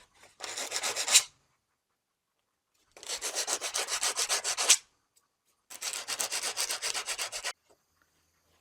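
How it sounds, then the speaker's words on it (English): Sandpaper rubbed by hand over a rough spot on a scupper hole anchor pole, heard as three close bursts of rapid back-and-forth scratching, each lasting one to two seconds with quiet pauses between. "I'm going to hit this little spot that made it a little bit rough with a piece of sandpaper"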